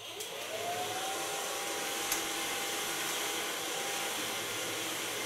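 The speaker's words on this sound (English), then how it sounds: "And blow dry the hairs." A hair dryer switches on and blows with a steady, even whooshing hum that holds constant close by, with no talking.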